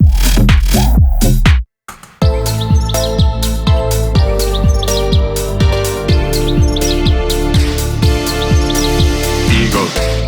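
A house track with a sampled eagle call plays loud and close, with chirping bird cries layered over thumping bass and a driving beat after a brief drop.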